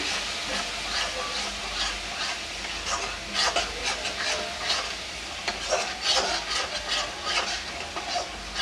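A small spoon stirs homemade spice masala through a pan for lentil dumpling curry, with soft hissing and sizzling under intermittent scraping strokes that come closer and louder midway.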